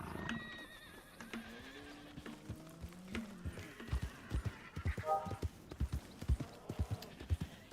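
A horse in the video game RedM whinnies with a long descending neigh, then hooves clip-clop steadily on a hard surface, growing louder and faster, with a voice murmuring softly.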